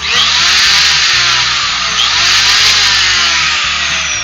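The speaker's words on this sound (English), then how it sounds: "It's kind of loud for a small motor." A cheap palm router's small motor whines loud and steady, a high dense drone with a faint low hum underneath, close up with no talk.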